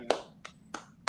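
A woman claps her hands four times in a quick, uneven rhythm, each clap a sharp, close, fairly loud slap with short gaps in between.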